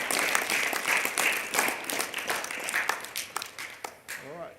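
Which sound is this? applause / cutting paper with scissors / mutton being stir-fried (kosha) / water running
applause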